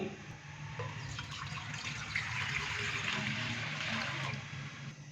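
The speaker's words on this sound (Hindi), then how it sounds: "कढ़ाई के अंदर हम डालते हैं 1 किलो पानी।" Steady rushing pour of 1 kilogram of water into a cooking pot, a continuous splashing stream lasting several seconds at even strength, close by with no talking.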